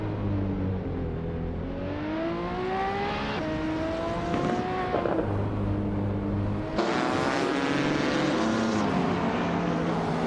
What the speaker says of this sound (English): Leach Mepsi is driving a 2012 Ford Focus RS